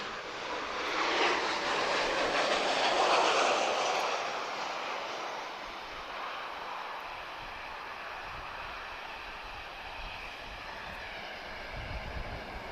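A Ryanair Boeing 737 arriving at Lisbon Airport, a broad jet roar that swells to a peak as it passes, then fades into a steady distant rumble of engines.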